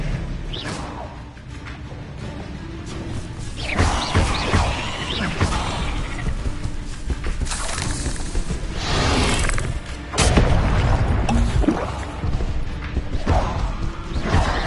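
A Bombarda spell explosion in the video game Hogwarts Legacy amid busy combat, booming thuds and crashing debris over a rumbling bed of game noise, with a heavy blast near the ten-second mark.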